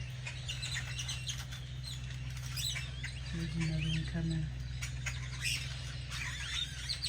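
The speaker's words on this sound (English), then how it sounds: "The birds are making all kinds of racket." Small birds chirp and squawk busily around a yard near dusk, with scattered sharp calls over a steady low hum, while a person speaks briefly nearby.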